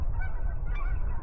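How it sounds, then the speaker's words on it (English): Geese honk repeatedly in the distance, flying overhead, over a low, steady rumble. "there's a geese flying on the sky"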